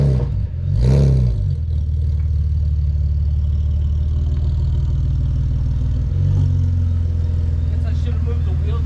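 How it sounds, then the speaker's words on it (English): BMW E46 wagon fitted with new headers, its engine idling loud and near with a low, steady drone and a couple of quick blips of revving, one at the start and one midway. "Yeah, let's hear the car real quick."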